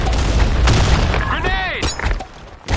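A grenade blasts in a shooter video game, a loud boom with a ringing, whistling tail, while a game voice shouts over it.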